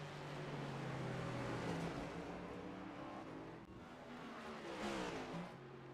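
Several race car engines in the racing game iRacing, at the Detroit Grand Prix circuit, hum and shift pitch together at a distance, their tones sliding up and down in a steady quiet drone.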